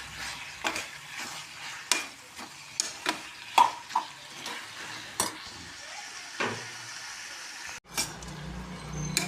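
Tomatoes being sautéed in a pan, with a soft sizzle beneath frequent sharp spatula scrapes and knocks against the metal, up close, pausing briefly near the end.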